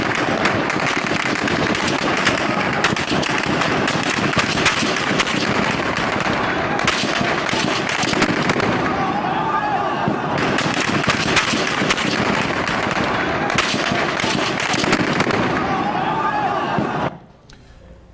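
Gunfire aimed at protesters in Egypt, rapid dense bursts of cracking shots in a loud chaotic crowd scene, continuous for most of the clip before cutting to near silence.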